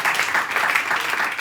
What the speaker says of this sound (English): I'm going to give you some claps for that one.